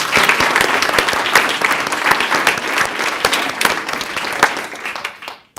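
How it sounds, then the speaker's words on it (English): A crowd at a board of education meeting applauds the Teacher of the Year runner-up with steady, dense clapping throughout, trailing off at the very end. "let's give him a round of applause as the Teacher of the Year runner-up"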